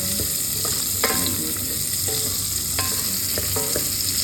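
Pieces of chicken fry in a pan with a steady, dense sizzle, and a spatula stirs and scrapes against the pan now and then, all close and continuous without speech.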